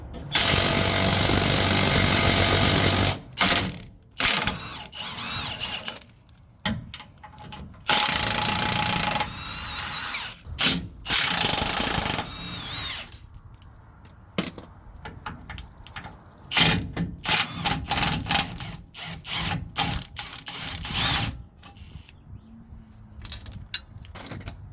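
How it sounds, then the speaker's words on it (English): Bolts on the sway bar of a Toyota Tundra are run off with a loud rattling power tool in repeated bursts, interspersed with metallic clinks and clatter of parts close by. "If I take down these bolts over here, the sway bar"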